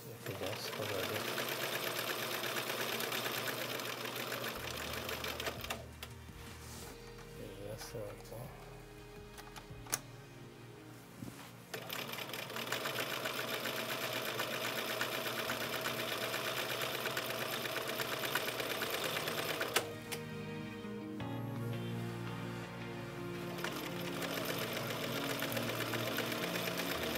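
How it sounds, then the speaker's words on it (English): A Bernina Record 930 sewing machine runs steady, rapid stitching bursts with a mechanical clatter, pausing twice briefly. A voice speaks over the stitching. "let me sew this one all the way up"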